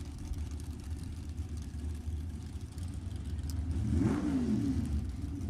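Drag racing cars at a raceway start line, a '67 Barracuda with a 572 cubic inch Mopar and a '32 Bantam, with a low engine rumble building into a rising rev toward the end, heard from a distance.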